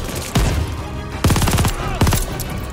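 Bursts of gunfire from the World War II shooter Call of Duty: Vanguard: three loud, close volleys of rapid automatic shots, separated by short gaps over a steady background rumble.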